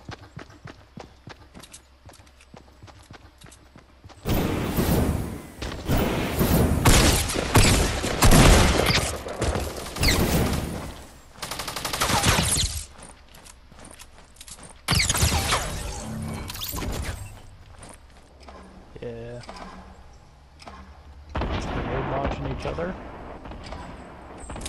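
Bursts of rapid gunfire in a Fortnite match, loud and repeated in clusters, with a player talking over much of the action.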